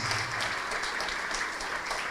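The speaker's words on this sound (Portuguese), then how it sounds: "Vamos aplaudir mais ao Senhor Jesus." Applause from a congregation during a church service, a dense steady wash of clapping hands that fills the whole stretch without pause.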